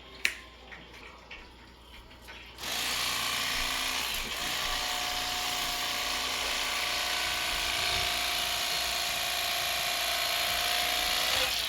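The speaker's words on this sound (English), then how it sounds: "It's been a while since I've used electric fillet knife." An electric fillet knife buzzes steadily as it cuts through a buffalo fish, starting abruptly after a few seconds of light tapping and holding a loud, continuous motor whine to the end.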